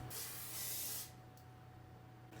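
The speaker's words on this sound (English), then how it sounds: "coat our baking pan with cooking spray" Cooking spray hissing onto a baking pan in a home kitchen, one loud, close burst of about a second, followed by quiet room tone and a faint brief second puff at the end.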